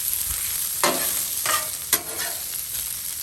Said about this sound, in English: we're going to check on our onions and our peppers